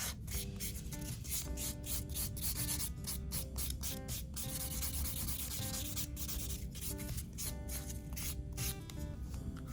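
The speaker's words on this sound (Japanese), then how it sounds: "この後はサンディングバンドでもいいですし、スポンジバッファーでもどちらでもいいです。" Gel nail tip surface being buffed with a sanding band or sponge buffer, making continuous close, loud rubbing and scraping strokes with a steady rhythm throughout.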